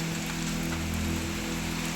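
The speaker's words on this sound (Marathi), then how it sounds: "बघू शकता तुम्ही किती जोरात पाऊस येत आहे" Heavy unseasonal rain falling hard on surfaces during a sunny spell in a Khandesh village, a dense, steady roar of drops, loud and continuous with no voices.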